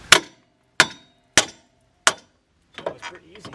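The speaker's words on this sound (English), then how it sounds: "Just a 2-pound hammer." Four sharp metallic strikes from a 2-pound hammer on a 2005-2010 Jeep Grand Cherokee WK front suspension control arm, evenly spaced and ringing briefly, followed by a cluster of lighter clinks.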